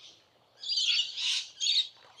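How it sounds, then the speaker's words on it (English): Parrots call from flowering trees in Innisfail, Australia, giving bright, harsh squawks in three or four clustered bursts. The calls come from a moderate distance in an otherwise quiet setting, with no talking. "Yeah, there's a lot of parrots and stuff apparently, and this tree here too with the flowers."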